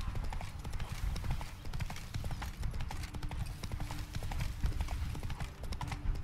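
Horse hooves clip-clop steadily in Witcher 3: Blood and Wine, set among vineyards, a continuous close trotting rhythm over soft game ambience.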